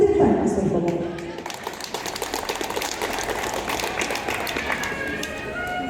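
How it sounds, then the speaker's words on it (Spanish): Wedding guests applauding after a call for loud applause, a crowd's clapping rising after a brief voice and continuing steadily at moderate level. "Fuertes palmas, por favor."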